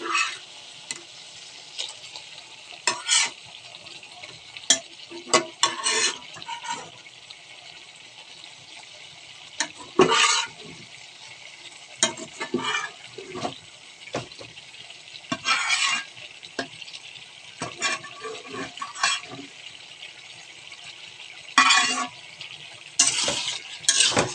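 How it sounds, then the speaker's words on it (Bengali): Pangas fish stir-fried with potatoes and spices, quiet frying under repeated bursts of spatula scraping and clinking against the pan, spaced irregularly across the stretch. "মাছগুলো দিয়ে একটু কষাই নিতে হবে, মশলাটার ভিতরে সুন্দর করে চলে যাবে"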